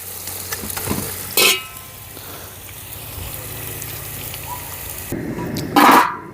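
Onions fry in a pan for biryani in a backyard, giving a steady low sizzle broken by two short, sharp scraping clanks.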